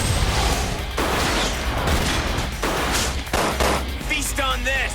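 Resident Evil: Dead Aim game gunfire crackles in loud repeated bursts, with booming shots separated by short gaps and a brief warbling electronic effect near the end.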